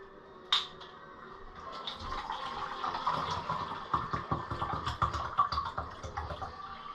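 Water pours steadily into a pot for lima bean soup, a close splashing, bubbling stream that builds and grows busier after a sharp click at the start.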